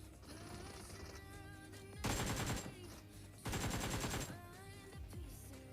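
Rapid bursts of automatic gunfire from a battle royale video game firefight, two loud dense volleys over a steady backdrop of game sounds and music, with fainter shots between them.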